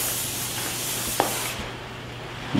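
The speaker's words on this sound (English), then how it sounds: "we'll just do some hairspray" Hairspray misted onto pinned-up hair in a salon styling demonstration, a steady close hiss lasting about a second and a half before cutting off, followed by quiet room tone.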